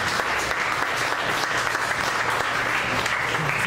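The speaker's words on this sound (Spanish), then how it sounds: "Denle una ofrenda de palmas a Dios." A church congregation claps steadily and loudly as a dense, continuous wash of applause, with no pauses across the stretch.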